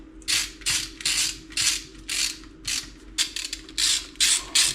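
Ratchet wrench tightening bolts into aluminum on a 1976 Dodge D100 Adventurer: about a dozen close, loud bursts of rapid clicking, each lasting a fraction of a second, separated by short pauses, with no talk.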